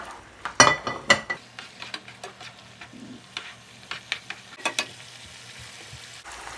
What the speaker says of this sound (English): So you see that it's boiling, so we can add our hot dogs in there.